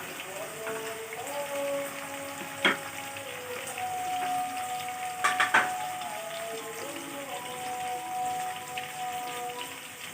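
Ingredients sizzling in hot oil as they fry golden brown for chicken dal gosht, a steady close crackle with a few sharper pops and no talking.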